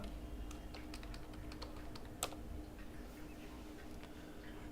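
Someone types an IP address into a Netgear managed switch on a computer keyboard, a quiet run of irregular key taps with one sharper keystroke midway and no voices.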